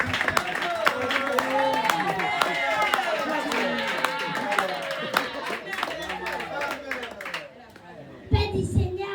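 An audience claps in a church gathering, the applause mixed with children's voices and chatter, fading out before a brief pause and more talk.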